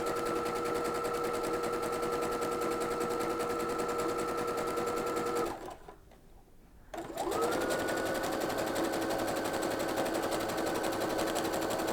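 A sewing machine fitted with a fringe looper foot runs steadily, making loops with a constant whirring hum. It pauses for about a second and a half, then starts up again and keeps going.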